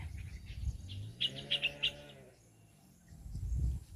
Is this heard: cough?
no